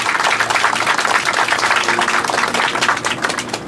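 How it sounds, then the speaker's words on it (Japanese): Audience at an award ceremony applauding, a dense, sustained wash of many hands clapping at once, loud and even from start to finish. "会場の皆様は盛大な拍手をお送りください。"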